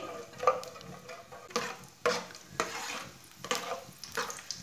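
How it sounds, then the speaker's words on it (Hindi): Whole cumin seeds and dry coriander frying in half a cup of oil, a soft sizzle broken by repeated stirring scrapes and light clicks against the pan, no voices. "आधा कप आयल आधा चम्मच साबुत ज़ीरा आधा चम्मच सूखा धनिया इसे आधा मिनट तक पकने देंगे"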